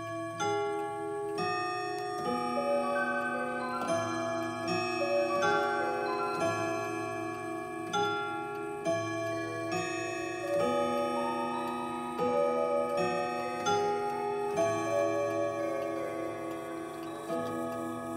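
A 1996 granddaughter clock ticks steadily beneath a bright, sustained chime melody of ringing pitched notes that fills the whole stretch, close and clear with no talking.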